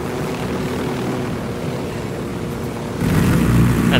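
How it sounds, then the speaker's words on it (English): The constant rotor-and-engine drone of a game helicopter, a steady hum that suddenly gets louder and heavier near the end. "I'm liking helicopters"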